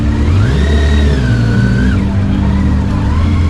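A motorcycle engine run with no exhaust fitted, loud and raw, holding a steady rumbling idle with a rising and falling rev partway through, close by, at a motorcycle festival.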